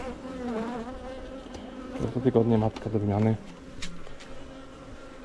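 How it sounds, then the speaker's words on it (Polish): Honey bees buzz steadily and aggressively around a hive at close range, guard bees active, while a person talks over them, the droning continuing beneath the voice. "Agresywna tak pszczoła."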